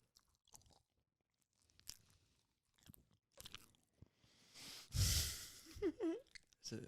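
Crunchy bites and chewing on a spicy potato empanada, close and intimate, with breathy pauses between bites and one especially loud crunch near the end.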